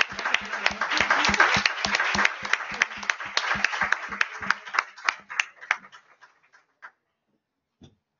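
Audience clapping at an international conference on care, equality and diversity, sharp individual claps in a brisk rhythm that thin out and die away into scattered last claps and silence.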